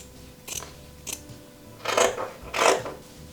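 Scissors cutting fabric for a reversible tote bag, a few separate snips followed by two longer, louder crunching cuts, close by with no talk.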